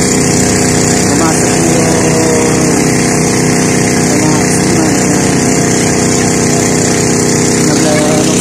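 Large motorboat engine running steadily on a river near a pier, a loud continuous drone filling the whole stretch, with children playing and people talking in the background.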